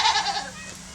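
A goat gives one short, close, wavering bleat that fades quickly.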